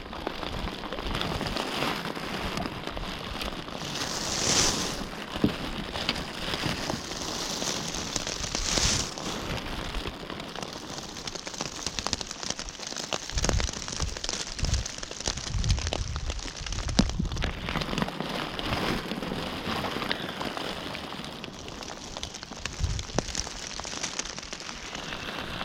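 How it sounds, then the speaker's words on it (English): Steady rain falls on the Brazos River around a fishing kayak, a continuous even hiss of drops hitting water and surfaces, with a few faint clicks and no talking. "It's been raining pretty much this whole time."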